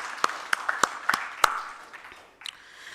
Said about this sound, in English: Please, let's give another round of applause for my CEO.